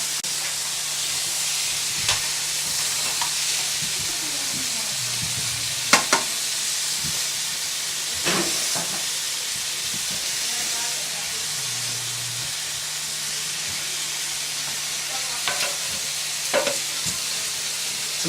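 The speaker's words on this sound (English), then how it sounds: "Some excellent searing going on" Indian food sears and sizzles in a hot pan with a steady loud hiss, broken by occasional scrapes and clinks of stirring.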